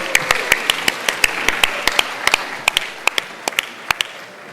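Scattered applause from an awards dinner audience as students leave the stage, individual sharp claps standing out in an uneven, fairly close rhythm over a light background of murmur.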